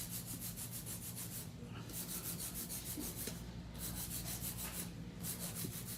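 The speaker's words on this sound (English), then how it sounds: "Hand filing is when you're blending in the base to the apex" A hand file is rubbed over an acrylic powder nail in steady, rapid back-and-forth strokes, giving a close, soft, continuous scratchy rasp that is quiet and regular.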